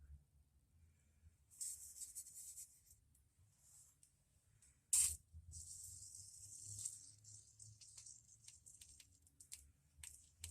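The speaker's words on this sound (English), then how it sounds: "what I'm going to use is some silicone spray" Silicone spray hisses in several short and longer bursts onto a Ford front stabilizer bar bushing, close and fairly quiet, with a sharp click midway and light handling noise between sprays.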